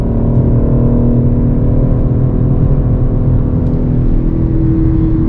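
A 2021 BMW M4 engine rumbles loudly and steadily at close range, a deep continuous drone without speech.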